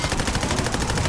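Dense rapid gunfire from the Call of Duty Black Ops 7 video game, a loud continuous burst of automatic shots filling the whole moment, with no talking over it.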